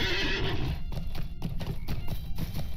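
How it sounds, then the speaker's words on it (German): Horse hooves clip-clop steadily in a Lord of the Rings video game, a brisk, continuous gallop of close, loud hoofbeats with a whinny near the start, alone without talk. "wir können zumindest ein Pferd nach Hobbingen nehmen"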